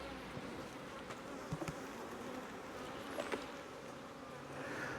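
Honeybees from a queenless hive, agitated and angry, buzz in a steady, dense drone close by, with a few brief louder knocks and bumps over the top.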